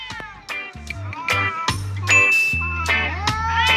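Several cartoon cats meow in quick succession in the Cat Kingdom, loud and close, with overlapping yowls and bell-like dings over a low hum.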